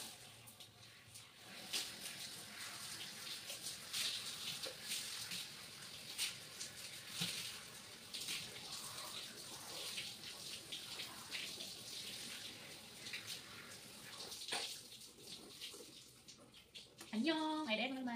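Water runs steadily from a tap while hair is rinsed, a soft continuous splashing hiss heard close up, with a voice talking quietly now and then.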